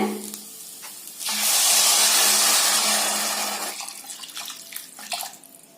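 Water pours into a pressure cooker of jeera rice in one loud, rushing splash lasting a few seconds, then trails off into quieter trickling and clinks.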